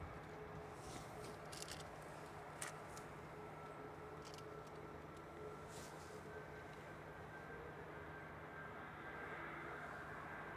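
A Boeing 737 MAX 8200 on a Wrocław flight roars steadily overhead at Manchester Airport, a broad, sustained jet rumble with no voices over it.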